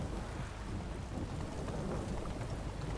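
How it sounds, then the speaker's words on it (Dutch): Thunderstorm in the video game The Witcher 3: Wild Hunt, steady dense rain hiss with a low, continuous rumble of thunder underneath, fairly faint and even throughout, no talking. "Wat een donder"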